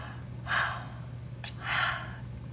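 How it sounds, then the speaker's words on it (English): A person yawns twice, each a breathy, drawn-out exhale about a second long, close and quiet over a steady low hum, with a short sharp intake of breath between them. "I'm gonna yawn again. I knew it was coming."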